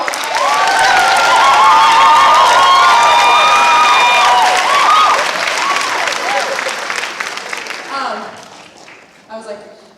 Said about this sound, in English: Can we just give an extra applause and kudos to the souls